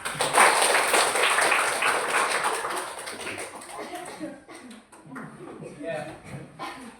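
Schoolchildren clap their hands together in a classroom, a dense burst of clapping that tapers off after a few seconds into scattered claps and voices.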